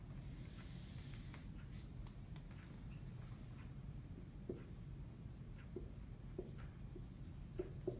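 Pen or chalk writing an equation on a board in a lecture room, faint scratchy strokes and light taps in an irregular rhythm over a low steady room hum.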